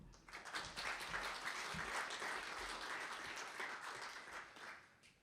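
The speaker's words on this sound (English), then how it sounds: "Please give him a big round of applause." An audience at a Korea–EU–U.S. trade cooperation conference applauds a speaker, dense steady clapping from a sizable crowd that swells quickly and gradually thins toward the end.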